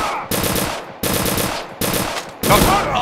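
Bursts of rapid automatic gunfire as a player shoots at enemies in a video game, four loud, close volleys separated by brief gaps, with no talking.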